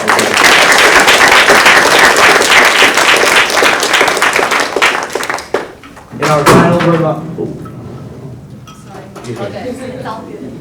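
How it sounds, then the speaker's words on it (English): A symposium audience applauds panelists in a loud, dense burst of clapping that lasts several seconds and then tapers off, followed by a knock and a voice speaking. "Let's give them another round of applause"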